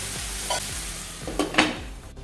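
Onion and tomato masala being stirred in a pan, with a steady sizzle and a few scraping strokes of a spoon, close and fairly loud with no talking.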